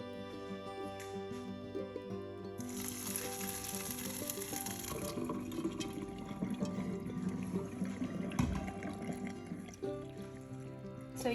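Water from half-cooked rice for mutton kacchi biryani pours through a strainer, a continuous hissing, splashing rush that starts suddenly and runs steadily at moderate volume over a low kitchen hum.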